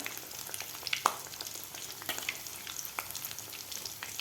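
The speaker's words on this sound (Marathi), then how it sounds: "मीडियम हीटवर तळल्यामुळे आतमध्येपर्यंत तळले जातात हे समोसे." Mini potato-and-cauliflower samosas deep-frying in oil over medium heat, a soft continuous bubbling sizzle with occasional sharper crackles and one brief clink, fairly quiet and close, no voices.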